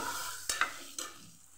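Red chili powder, turmeric and coriander-cumin powder being stirred in a hot pan for potato rice: a soft sizzle broken by two or three quick spoon scrapes, close and brief.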